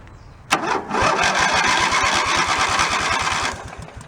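A free Craftsman riding mower, with a carburetor that seems to lack an idle circuit, cranks briefly and catches. It runs at a steady, loud, close chugging rhythm for a few seconds, then starts to fall away.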